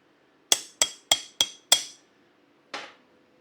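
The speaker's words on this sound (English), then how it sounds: "Chipping hammer." Five sharp metallic knocks of a chipping hammer knocking dross off plasma-cut steel in a quick, even series, then a pause and one more lighter strike, crisp and close.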